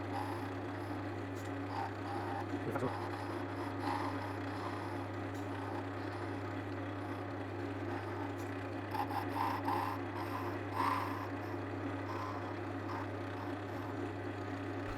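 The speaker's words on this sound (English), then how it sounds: "just using the skew, slowly working on this because the wood is fairly thin" A 12mm Ashley Isle skew chisel slowly cuts thin wood on a turning lathe, giving a soft, continuous rasping scrape over the steady low hum of the machine, with faint light scratches throughout.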